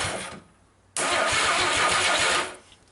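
A 1957 Chevy engine, not run in years, cranks briefly, pauses, then catches and roars loudly for about a second and a half before dying back down.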